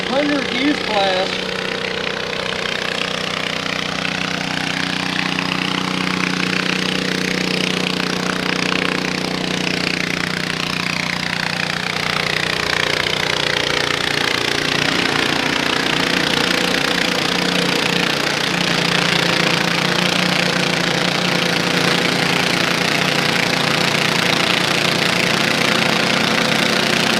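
A garden tractor engine roars steadily at a tractor pull, loud and sustained, with the pitch rising and shifting as the puller works down the track.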